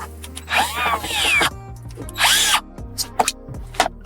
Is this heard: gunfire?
no